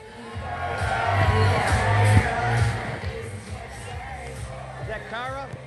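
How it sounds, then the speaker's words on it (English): Crowd cheering and whooping for a bikini contestant at Preakness, a loud, steady outdoor hubbub with shouts and scattered claps, while a voice talks through it near the end. "Give her a round of applause."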